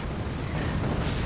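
Big explosions in the game Forts blend into a dense, continuous rumbling roar with a heavy low end, sustained and fairly loud without distinct separate blasts.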